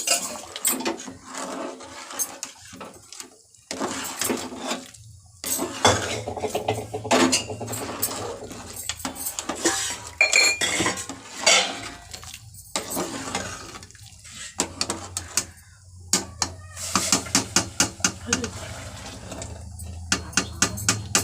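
A spoon stirs food in a metal cooking pot on a home stove where rice is being made, giving irregular close scraping and clinking strokes with short pauses and no talk.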